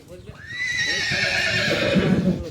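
A horse tied up for a wedding procession lets out a loud, close, drawn-out whinny. Some low rustling and stamping sit underneath it.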